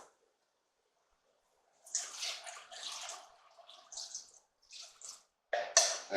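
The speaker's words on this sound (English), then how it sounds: "now we're going to add enough water to our pot to cover our pork" Water is poured from a container into a cooking pot of pork, giving a few short splashing bursts broken by brief pauses, close and fairly quiet.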